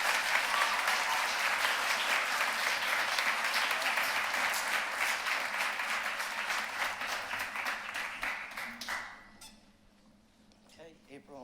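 Sustained applause from a concert audience honoring the seniors at a high school spring band concert, loud and steady for about nine seconds before fading out quickly.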